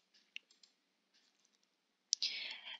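Faint, sharp single computer mouse clicks scattered through near silence, with a louder click near the end followed by a brief burst of other noise.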